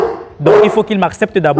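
A roughly year-old aggressive bulldog barks from its cage in sharp, close bursts, mixed with and partly under someone talking nearby.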